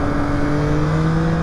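Yamaha 09 motorcycle accelerating hard out of a curve on its back wheel: a loud, close, steady engine drone with a strong, rising tone, alone and without speech.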